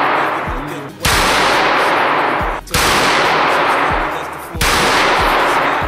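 Three loud gunshots at a shooting range, each about a second and a half apart, cracking sharply and echoing into a long decaying tail outdoors.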